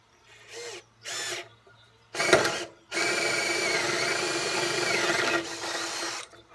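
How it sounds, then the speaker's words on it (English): A power drill whirs in a few short bursts, then bites into wood with a crunch, drilling out corners for a Viking camp chair, and grinds steadily for several seconds before stopping. "I'm just going to take a drill and go ahead and drill the corners out."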